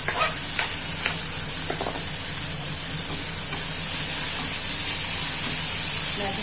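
Tomato and coriander leaves frying in a pan, giving a loud, steady hiss and sizzle that runs throughout, with a few faint stirring clinks early on and no speech.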